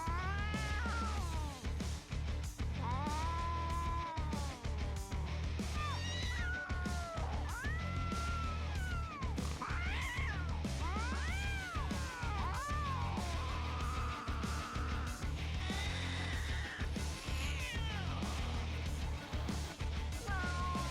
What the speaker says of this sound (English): Every hiss, every growl, every swat at the air, it's like the cat's laying down the law